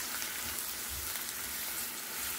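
Carrot and onion frying in a pan, a constant close hiss of sizzling with soft stirring movement underneath.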